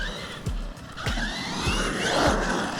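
A Kraton RC car with a new build bashes around a BMX track, its electric motor whining in repeated short bursts with a falling pitch as the throttle eases, plus tyre and dirt noise, fairly close, no speech.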